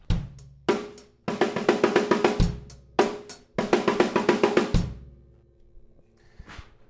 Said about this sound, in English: for the 8-stroke fill that we're going to be doing,